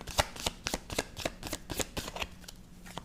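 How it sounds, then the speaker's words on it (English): A deck of cards being riffled and shuffled for a royal family card reading: a steady run of quick, crisp flutters and slaps about four per second, close and fairly quiet, with no talking. "Let's pull cards on King Charles."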